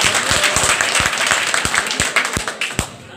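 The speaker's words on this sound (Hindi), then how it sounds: "जबरदस्त ताली हो जाए सब लोगों के लिए।" An audience at a network-marketing business seminar bursts into loud, dense applause, many hands clapping together in a sustained wash that thins toward the end as the clapping trails off.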